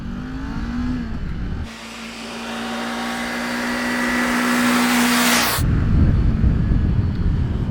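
A Kawasaki Ninja 400 motorcycle rides past on an open road, its engine rising to a loud, sustained high-revving whine that cuts off sharply, followed by rushing wind noise.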